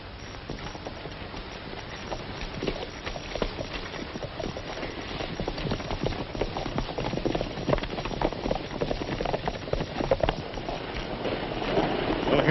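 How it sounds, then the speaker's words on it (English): Several horses clop on the ground as riders mount and move off, a continuous patter of hooves at moderate distance with faint voices mixed in. "Get on your horses."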